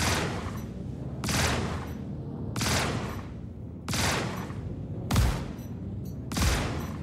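Spaceship guns in the video game Star Citizen fire in six loud sustained bursts, each about half a second long, separated by short gaps.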